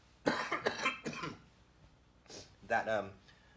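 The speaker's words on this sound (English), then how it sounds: "I am coughing because my hotel room, I couldn't get figured out." A few harsh coughs close to the mic, mixed with throaty voiced sounds, followed after a pause by another rough cough.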